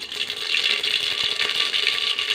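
Mustard seeds crackle and splutter in hot oil inside a pressure cooker while dal is being prepared, a dense, steady sizzling rattle that stays loud and close without any talk.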